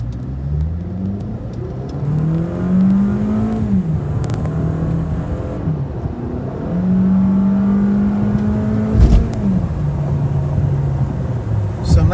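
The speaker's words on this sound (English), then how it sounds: "All right, so here's the acceleration." A 2018 Toyota Camry SE with a four-cylinder engine accelerates from inside the cabin, its engine note rising and dropping through several gear shifts with a steady road rumble underneath.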